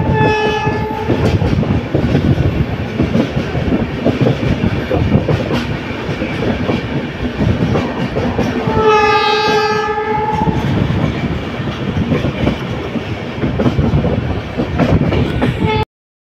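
An Indian Railways express running from Guwahati toward Jammu Tawi rumbles loudly along the track, a steady roar with clickety-clack, and its horn sounds twice, a short blast near the start and a longer one in the middle.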